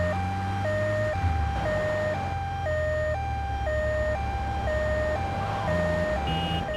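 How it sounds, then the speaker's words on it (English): An ambulance siren in GTA III blares a steady two-tone wail that alternates every half second, loud and close over a low vehicle engine rumble, with no voices. "Sirens on."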